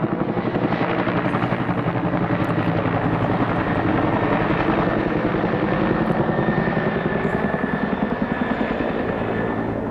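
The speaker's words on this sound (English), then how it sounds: "Helicopter, mate." A helicopter drones steadily overhead near a bushfire at Molesworth, Tasmania, its rotor chop a dense, loud, continuous thrum that holds level throughout.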